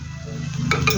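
Cooked bihon rice noodles tossed with vegetables in a pan, a steady soft stirring and sizzle with a couple of light utensil clinks against the pan near the end.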